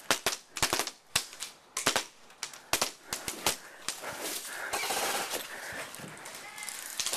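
Paintball guns fire in a first-person attack-and-defend game on a paintball field: sharp, close pops come in quick irregular bursts, then give way to a rougher, noisier stretch with people shouting and talking throughout.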